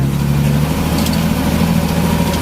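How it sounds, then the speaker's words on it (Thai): A car engine runs loud and close at fairly steady revs, a continuous low mechanical drone with no talking. "ฟังเสียงรอบเครื่องยนต์เอาครับ"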